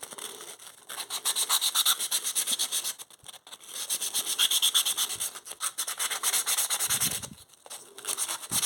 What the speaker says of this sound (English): now I'll do the same with, but not as noisily, with the smoother sandpaper